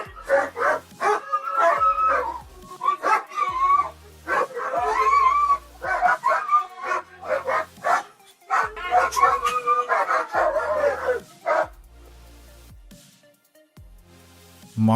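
Dogs at an animal rescue facility bark and yip in repeated bursts, fairly close, with excited whimpers mixed in and a brief quiet stretch near the end.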